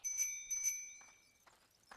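A bicycle bell rings twice in quick succession as a check in a Franklin cartoon, bright metallic dings that ring on briefly, followed by faint soft tapping sounds.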